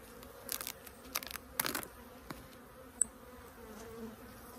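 Faint, thin buzzing of bees close by, with a few brief louder bursts as insects pass near, over a quiet background; the bees have built onto a feeder.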